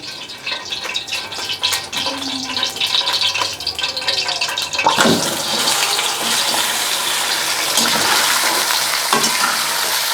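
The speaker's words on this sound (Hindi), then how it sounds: "कढ़ाई अच्छे से गर्म हो चुकी है, साथ ही हम चिकन ऐड कर देंगे।" Chicken leg pieces hit hot oil in a well-heated karahi on a high flame, giving a loud, continuous sizzle that flares and crackles partway through, close up with no talking.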